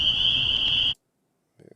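A crickets sound effect from a Scratch sound library: a steady high, shrill chirring that lasts just under a second and cuts off abruptly, followed by a brief quieter sound.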